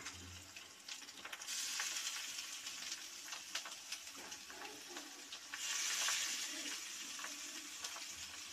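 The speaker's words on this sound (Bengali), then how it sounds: "শসাটা দিয়ে একটু ভালো করে এখন ভাজা ভাজা করে নেব" Ripe cucumber fries in a pan of spice paste, giving a continuous moderate sizzle that swells louder midway, with occasional stirring scrapes and no talking.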